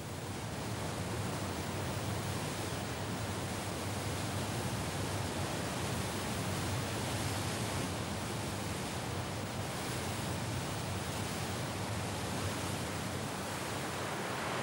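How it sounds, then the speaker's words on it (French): A mountain torrent carries sand and gravel downhill, a steady, dense rushing roar of water that stays loud and unbroken throughout, with no voices. "Le débit du torrent, charriant en sable et gravier,"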